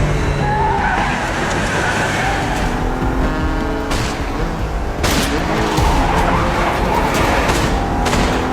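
Film chase scene of cars pursuing a motorcycle, with loud tyre skids and revving engines, sharp bangs cutting in, all close and intense without speech.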